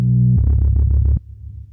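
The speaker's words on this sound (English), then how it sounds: "So to recap, we have our bass line" Beatboxed bass line looped on a Boss RC-505 MK2, a deep distorted hum that shifts into a pulsing rhythmic pattern for about a second, then drops to a quieter low rumble, alone with no voice over it.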